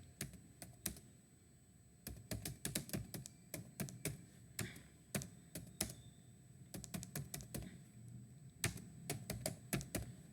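Rapid keyboard typing as answers to a quiz question on desert features are written, with dense clusters of clicking keystrokes in uneven bursts throughout, fairly close with no talk.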